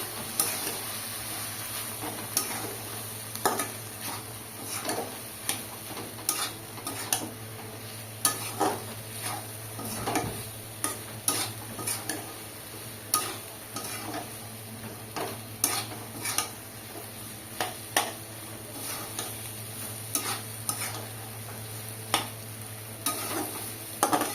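Bottle gourd curry cooked with a hilsa fish head and thickened with rice flour paste is stirred in a pan, with repeated rhythmic spoon scrapes over a low sizzle and steady hum.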